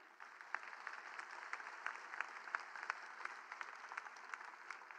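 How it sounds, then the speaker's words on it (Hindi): A crowd at a community foundation day event claps in a steady stream of applause. It sounds distant and faint and keeps up evenly for the whole stretch without anyone speaking. "एक बार जोरदार तालियां भाई साहब के लिए"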